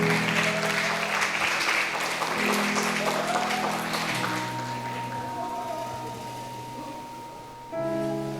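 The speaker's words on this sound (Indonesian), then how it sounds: "Kita berikan tepuk tangan." Steady applause at a church wedding ceremony fills the space over sustained instrumental tones, gradually softening toward the end as music continues.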